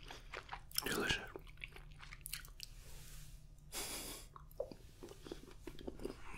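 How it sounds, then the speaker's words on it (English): Biting into a sugar sweet and chewing it up close, with crisp bites and moist crunching in short bursts over a quiet background; there is no talking. "I like to bite the top off and drink the contents."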